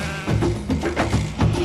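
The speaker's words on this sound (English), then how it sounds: "Scientists clone a sheep named Dolly." A sheep bleats in a run of wavering, nasal calls, several in quick succession, close and fairly loud.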